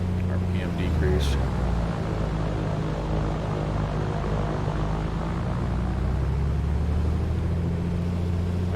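A2A Comanche light piston airplane running up its engine on the ground in a flight simulator game, a steady loud propeller drone holding throughout with a faint higher tone near the start.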